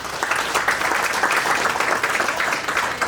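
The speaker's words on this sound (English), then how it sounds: "Round of applause." Audience applause at a healthcare providers' annual CEO conference keynote, a steady, dense wash of many hands clapping that holds at an even level for about three seconds.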